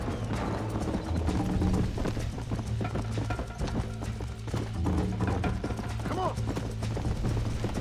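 Hooves of a galloping horse in Red Dead Redemption pound in a rapid, steady rhythm throughout, close and moderately loud, with mechanical clicking mixed in and a brief whinny.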